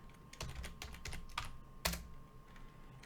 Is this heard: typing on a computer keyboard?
yes